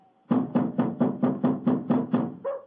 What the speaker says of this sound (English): Knock again, old fellow, will you?